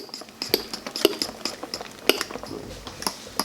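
A fork whips mashed potatoes in a bowl, making a quick run of sharp metallic taps and clinks against the bowl's side, close up.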